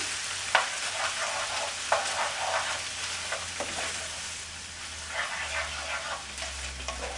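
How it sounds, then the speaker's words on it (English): Tomato paste being stirred into a bolognese sauce in a pan gives a continuous sizzle with repeated scraping strokes of the spoon and a low hum underneath, with no voices. "stir that up, get it all folded in"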